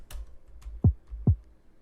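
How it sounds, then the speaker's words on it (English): Two punchy kick drum hits, evenly spaced and close, each a short deep thump with a quick decay, after a few faint clicks. "Here's two kicks I got by themselves. They sound like this,"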